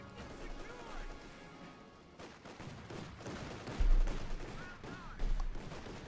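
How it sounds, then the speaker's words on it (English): Gunfire in a Company of Heroes 2 match between the OKW and USF armies, heard as scattered bursts of shots and heavy cannon thumps under continuous play-by-play commentary. "engaging the Lukes with its 30mm gun"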